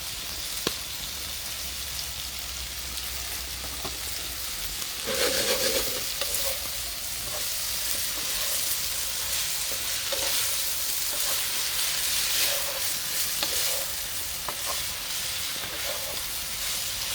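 Sliced Italian sausage with scallion and green seasoning sizzles in a pan over an outdoor fire, a steady hiss with occasional stirring scrapes and a louder burst of frying partway through.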